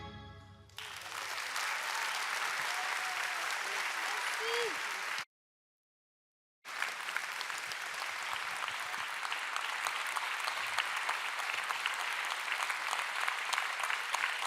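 An audience at a New Year's greetings ceremony applauds a choir, sustained dense clapping that drops out briefly, then resumes just as strongly and continues to the end.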